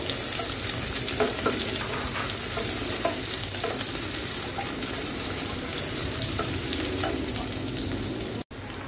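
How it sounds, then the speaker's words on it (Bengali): Chopped onions and a bay leaf frying in oil for a fish-head muri ghonto, an even, close sizzle with soft stirring scrapes throughout and a sudden brief cut near the end. "পেঁয়াজ কুচিটা একটু ভেজে দিব"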